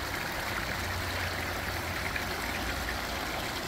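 Meadow river stream flows in a steady, broadband rush of water, constant and fairly close with no breaks and no voices.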